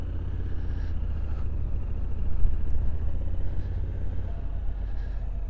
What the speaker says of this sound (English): This is the standard with 21-inch Africa Twin with electronic suspensions and DCT gearbox